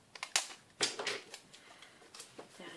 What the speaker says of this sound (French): Je rajoute toujours un peu de scotch.